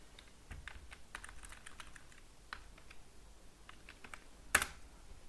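Computer keyboard typing while writing Node.js TypeScript code, quiet irregular clusters of close key taps ending in one sharper, louder keystroke, with no voices.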